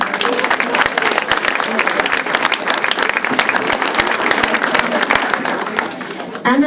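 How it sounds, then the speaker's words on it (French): An audience applauds at a 35th anniversary celebration of the Domrémy unit in Plessisville, with dense, sustained clapping filling the room and holding steady, tapering slightly near the end. "puis une bonne main d'applaudissements"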